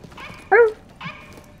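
A dog in the video game The Division gives two short barks, one louder and one fainter, close by over a quiet game background.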